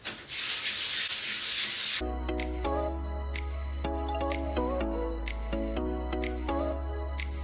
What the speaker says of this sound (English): Just go in circular motions like this just to make this nice and clean.